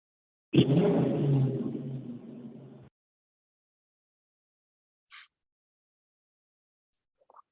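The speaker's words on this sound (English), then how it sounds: "Okay, rev it up again." A car engine on a dyno during a Terminator X EFI tune revs once in a loud, roaring burst lasting a couple of seconds that fades as the throttle lets off, followed by near silence and a couple of faint ticks.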